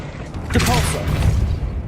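The Depulso force-push spell cast in Hogwarts Legacy, a single whooshing boom with a rumbling, creaking tail, heard close and fairly loud.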